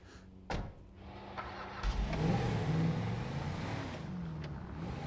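A car engine in GTA V on PC starts with a sharp burst, then revs and roars steadily up close, running loud under the gameplay.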